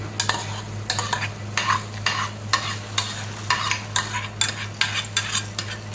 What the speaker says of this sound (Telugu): ఇప్పుడు మనం తాలింపు పెట్టింది వేసేసి